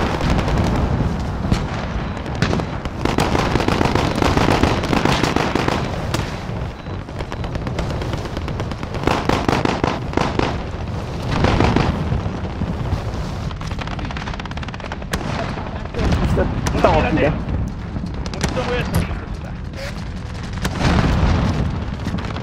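Relentless Call of Duty combat: dense automatic gunfire and booming explosions pile up continuously, loud and close, with no break.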